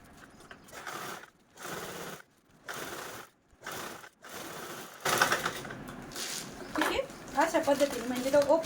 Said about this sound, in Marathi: आत्ताच आपण स्टिच केलेलं पार्ट आता इकडच्या साईडने पण सेम त्याच पद्धतीने स्टिच करून घेऊ